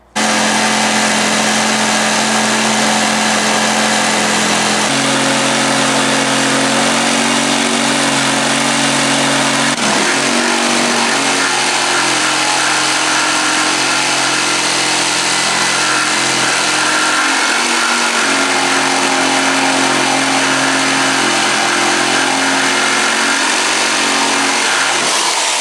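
A jigsaw cuts a Les Paul guitar body from a wood blank, giving a loud, continuous buzzing drone whose pitch shifts slightly as the blade works through the cut.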